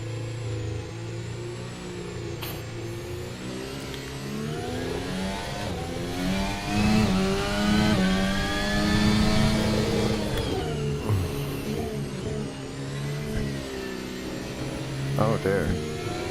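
A race car engine in a sim racing game, driving at Imola in a formula car, drones and revs steadily against the pit limiter, its tone rising and falling while someone talks over it.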